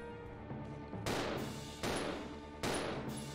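Gunshots in the video game Resident Evil 0: three loud, sharp blasts roughly 0.8 seconds apart, each ringing out with a long tail, layered over a steady droning game soundtrack with no talking.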